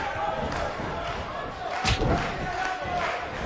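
The arena crowd in the WWE 2K19 wrestling video game gives off a steady, moderate roar, with a few thumps and bursts of noise partway through.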